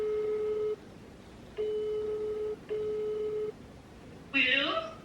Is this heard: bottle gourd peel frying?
no